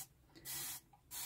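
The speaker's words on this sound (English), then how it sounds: "So now I'm going to spray again." Warm water sprayed from a spray bottle onto paper during mixed-media paper making, two short hissing spritzes in quick succession after a faint first puff, close and clear with no talk.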